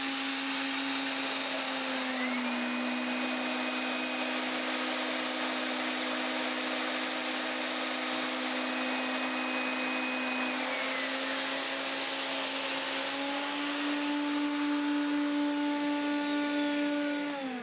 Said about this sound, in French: Et la scie.